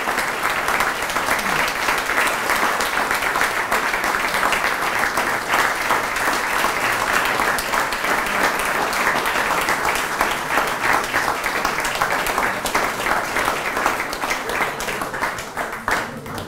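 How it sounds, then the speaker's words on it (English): Dense, sustained applause from a banquet audience fills the whole stretch, steady and loud with no break, some scattered voices mixed in at an awards dinner. "let's give just an arousing applause for Greg Williams, the filmmaker of this mov"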